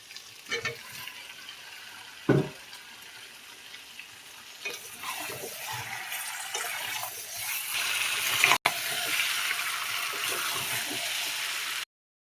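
Water pours into a pot of browned chicken curry with Malabar spinach stems and potatoes, a rushing sizzle that builds and steadies into a loud continuous hiss, close by, with a few clatters early on.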